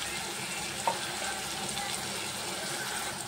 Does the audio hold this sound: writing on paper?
no